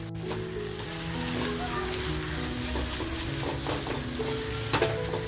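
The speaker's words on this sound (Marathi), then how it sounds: "आता जे आपण खेकड्यांच्या नांग नांगडी जे शिजवून घेतल्या होत्या ते टाकूया आणि मस्त असं फ्राय करून घेऊया" Cooked crab claws fry in a spicy Malvani masala, a dense, continuous sizzle with scattered pops and light stirring scrapes throughout.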